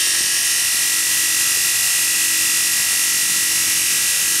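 A rewound Bosch 750W electric motor runs at constant speed, giving a loud, unbroken high-pitched whine with a steady hum beneath, close up and alone.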